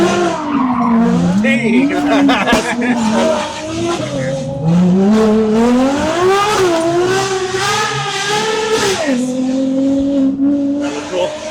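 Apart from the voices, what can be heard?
Porsche Taycan electric car driven hard with tire squeal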